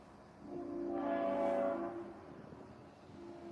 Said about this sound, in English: I think that's a train